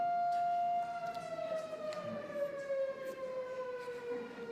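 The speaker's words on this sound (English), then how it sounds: "So we discussed the siren was broken this morning. Apparently it is not." A public warning siren in Storey County goes off an hour early, a single sustained wailing tone that slowly falls in pitch, steady and fairly loud throughout with faint background noise.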